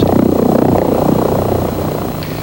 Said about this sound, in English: The XV-15 experimental tilt rotor aircraft from Bell Helicopters.